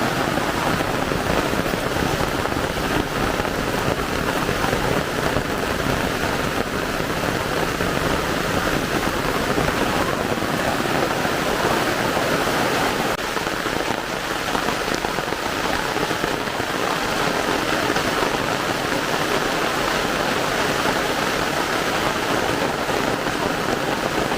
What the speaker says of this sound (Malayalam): മഴയുടെ ശക്തി കൂടുമ്പോൾ വെള്ളത്തിൻ്റെ ശക്തിയും കൂടുന്നതാണ്